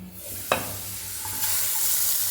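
Chopped chilli and ginger tipped into a pan of frying cauliflower filling for singara, one sharp thud as they land followed by a steady, close sizzle that swells slightly and holds.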